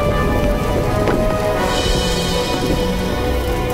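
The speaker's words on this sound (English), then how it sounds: "Superheated rocks shower the valley in a burning hail." Documentary sound effect of superheated burning rock hail showering a valley in the aftermath of the Chicxulub asteroid impact: a dense, steady rain-like patter with low rumbling underneath, loud and continuous throughout.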